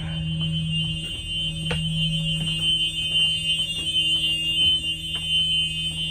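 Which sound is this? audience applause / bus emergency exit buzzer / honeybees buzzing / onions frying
bus emergency exit buzzer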